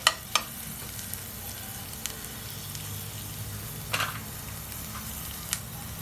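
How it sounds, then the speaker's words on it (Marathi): Sliced onion sizzles steadily in a pan for butter chicken, a continuous close hiss with a few sharp knocks and clinks of a utensil. "कांदा चांगला फ्राय व्हायला लागलाय"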